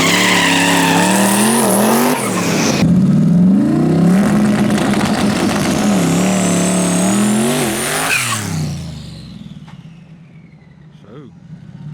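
Twin-turbo Ford Crown Victoria launching at a no-prep drag race, its engine roaring loud and close, then pulling away. Tires squeal as it goes, and people talk near the car throughout.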